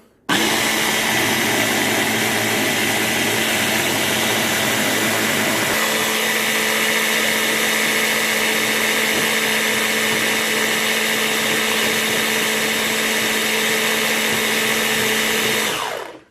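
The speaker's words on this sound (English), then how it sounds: "I use an immersion blender for this." An immersion blender whirring through protein ice cream mix under a lid, a loud, steady motor drone that shifts pitch slightly partway through and runs continuously for about fifteen seconds before cutting off.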